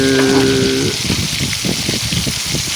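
Onions sauté in a pan for chicken adobo cooked in coconut milk, a loud steady sizzle and crackle heard up close, with a brief tonal hum at the start.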